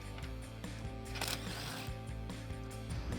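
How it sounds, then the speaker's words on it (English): A tool with a 12mm socket works on rear bumper bolts of a 2016-2023 Toyota Tacoma, giving quiet mechanical clicking and ratcheting ticks close by in irregular short bursts, with no talking. "Now we're moving back to our 12mm socket. To get these 4 bolts out."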